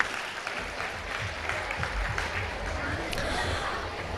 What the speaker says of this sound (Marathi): एकदा जोरदार टाळ्या होऊन जाऊ दे त्यांच्यासाठी.